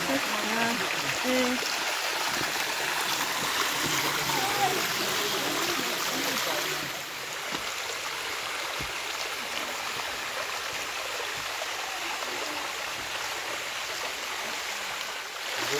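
The Bad Urach waterfall stream in Germany flows with a constant broad rush of water, moderately loud and steady throughout, with a faint voice at times.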